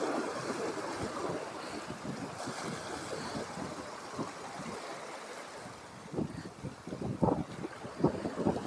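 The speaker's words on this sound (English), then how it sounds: "Oh, that wind can go away." Gusting wind batters the microphone outdoors by the sea, a steady rough rumble with waves washing underneath, swelling into stronger buffets near the end.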